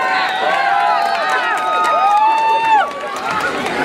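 A concert crowd at a family festival cheers and shouts with high, wavering voices, loud and steady throughout, with excited calls rising above the mass of noise.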